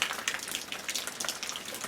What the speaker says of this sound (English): this is rain from the latest storms going through Florida